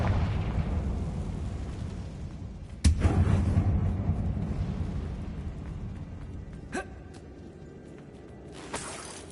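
Confringo blasting spell cast in Hogwarts Legacy inside a closed mine, two sharp explosive bursts several seconds apart over a low ambient rumble, with no voices.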